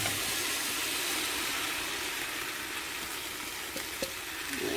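Steak is returned to a pot of warm vegetables for a beer-based Irish beef stew, giving a soft steady sizzle and hiss. A couple of faint clinks and scrapes sound near the end.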